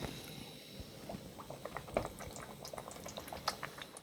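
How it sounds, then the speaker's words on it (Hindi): Food fries in hot oil in a small kadhai, a soft continuous sizzle with scattered crackles and pops, quiet and close, with no voices over it. "अब हम इसको फ्राई करना शुरू करते हैं।"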